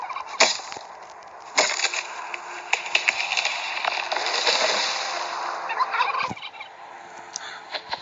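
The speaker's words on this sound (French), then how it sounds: "J'ai entendu une dinde." A turkey gobbles in the survival video game Last Day on Earth: Survival, with several sharp bursts and rattling calls spread over eight seconds, fairly close and unaccompanied by talk.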